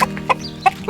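Backyard chickens cluck in three short, loud, close calls spread across a brief moment.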